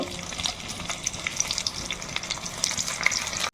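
Beans and gourd leaves fry in mustard oil in a wok, a loud continuous crackling sizzle with scattered pops and light stirring scrapes close by, and no one speaking.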